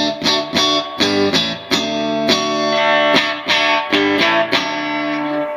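A 1954 replica Fender Stratocaster, a Custom Shop masterbuilt 50th anniversary model, plays on a clean amp channel with the neck and middle pickups combined. Loud strummed chords ring out in a steady rhythm, with no talking.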